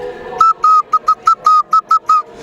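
A shrill clay whistle blown at an autumn fair in a rapid series of short, even toots, loud and close, with no other sound around it.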